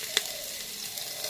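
Onion frying in a pan with cumin, a steady soft sizzle throughout with one small sharp pop near the start, close and even.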